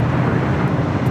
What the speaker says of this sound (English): we just had a China Southern 777 freighter touching down on 25